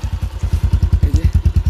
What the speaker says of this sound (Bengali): এই যে শুনতে পাচ্ছেন এটা হচ্ছে একজস্টের সাউন্ড।